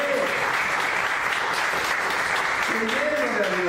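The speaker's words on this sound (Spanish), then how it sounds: "Den una ofrenda de palmas a Él." A church congregation claps loudly and continuously in praise to Jesus, a dense sustained roar of hands with voices calling out over it.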